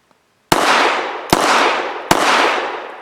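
Three loud, sharp pistol shots from a Full Conceal M3D folding pistol fed from a PMAG Glock 19 magazine, evenly spaced less than a second apart, each with a long ringing decay.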